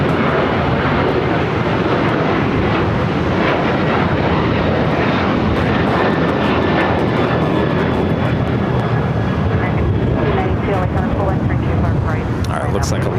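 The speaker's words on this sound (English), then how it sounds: "Flight taking off with Delta Airlines, Flight 622, heading to Austin, Texas, in the 737-900 ER." A Delta Airlines Boeing 737-900ER takes off at LAX, its engines a loud, continuous broadband roar that holds steady throughout, with faint voices underneath.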